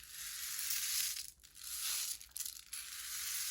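Homemade shaker of rice in a washed plastic bottle, gently shaken, producing a soft, continuous hiss of grains rattling and swishing, with a couple of brief dips between movements, quiet and close.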